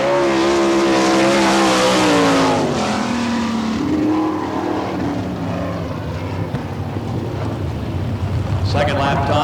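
Sprint race car from the All Star Circuit of Champions at Barberville, Florida Speedweek, roaring loudly around a dirt track, its engine pitch sweeping down as it passes, followed by sustained engine roar and a trailing rasp.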